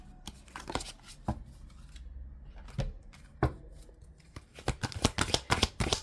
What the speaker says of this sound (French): On va faire le deuxième tirage avec l'oracle de l'âme intuitive.